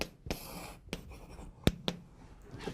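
Marker or chalk writing on a board during a Korean civil-law lecture, a few separate stroke taps and scratches across a short quiet stretch with no talk.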